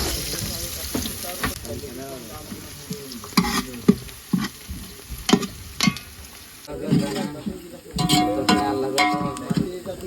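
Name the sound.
curry and vegetables cooking in a pot on a fishing boat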